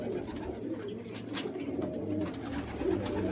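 Pigeons coo in soft low repeated murmurs, with light rustling and scattered clicks around them.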